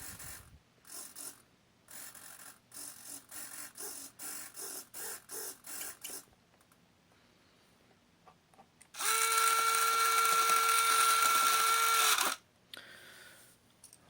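Front retractable landing gear on a Durafly Sea Vixen RC model plane: a string of short mechanical ticks and clicks, then a loud, steady servo whine lasting about three seconds before stopping abruptly.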